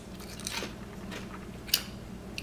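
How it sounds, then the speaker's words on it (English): One crisp, crunchy bite into a sweet potato chip, close and quiet, with a few soft crackles of chewing around it. "I want to take a bite of the sweet potato chips for you."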